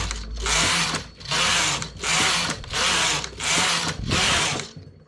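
A knitting machine carriage is pushed back and forth across the needle bed while knitting rows for ruffles on knitted dresses, making five even, loud, rasping sweeps with short pauses between them.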